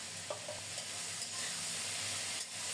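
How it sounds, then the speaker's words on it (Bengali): Vegetables for Bengali shukto sauté in a pan, a quiet, steady sizzle with faint stirring scrapes and no voices. "ছেঁকে ছেঁকে সবজিগুলো দিয়ে দিচ্ছি, জলটা ফেলে দেব। এগুলো কিছুক্ষণ কষিয়ে নেব।"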